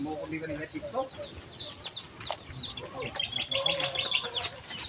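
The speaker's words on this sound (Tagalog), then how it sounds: "Mga chicken nila" Chickens clucking and calling on a rural farm, several birds near and far in an irregular stream of short clucks and squawks, with people talking over them.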